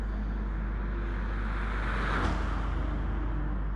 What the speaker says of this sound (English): listen to that Chevrolet V8 there.